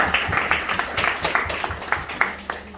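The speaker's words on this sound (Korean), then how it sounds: "박수 한번 쳐주시기 바랍니다" An audience claps at the opening ceremony of a Christian media mission broadcasting station, with brisk, uneven hand claps close by for about three seconds and no talking over them.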